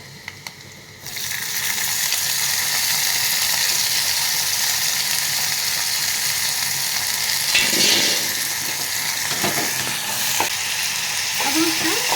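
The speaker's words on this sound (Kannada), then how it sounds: "ಎಣ್ಣೆ ಕಾಯ್ತಾ ಇದೆ. ಚೆನ್ನಾಗಿ ಪಾಲಕ್ ಸೊಪ್ಪು ಹಾಕಬೇಕು." Spinach leaves hit hot oil with a quiet start, then a loud, steady sizzle of frying fills the rest, with occasional scrapes and stirring clinks near the pan.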